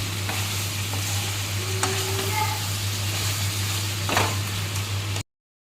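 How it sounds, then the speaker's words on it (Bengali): Soybean chunks fry in an oiled pan with a continuous close sizzle. Occasional stirring scrapes sound over a steady low hum, and the sound cuts off abruptly at the end. "এটা আরেকটু ভেজে ভাজে ভেজে নিয়ে নামিয়ে দেবো"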